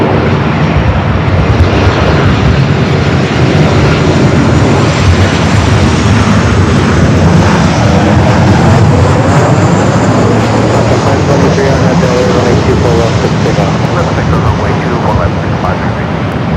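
A jet aircraft at LAX powers down runway 24 right, a loud, continuous engine roar filling the whole stretch, with a faint radio voice beneath.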